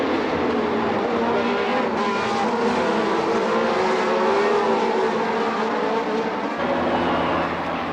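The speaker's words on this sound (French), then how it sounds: "Dès les premiers tours, Lauda est très pressant derrière la McLaren de Hunt" 1977 Formula 1 race cars, including a McLaren, circling the track in the opening laps, their engines a continuous loud roar with shifting pitch as cars pass close by.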